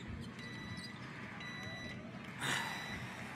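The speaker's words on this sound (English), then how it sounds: "Why is the microwave beeping" In the video game Captain Spirit, a kitchen microwave beeps in a few short, thin electronic tones, repeated at intervals over background game sound.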